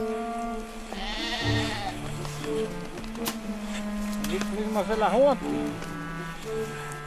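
Sheep bleat in deep snow in the Austrian Alps, several wavering calls rising close by, set against a low steady background.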